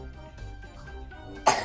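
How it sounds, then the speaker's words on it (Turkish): A single short cough from a sick child bursts out at the end, after a stretch of quiet room sound. "Bak, öksürüyorsun anneciğim, gel."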